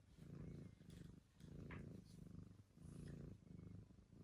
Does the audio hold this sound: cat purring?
yes